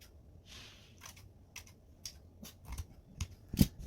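Scissors snip through underwear fabric along a seam, a series of quiet, close, separate cuts that grow sharper toward the end, in a hushed room without speech.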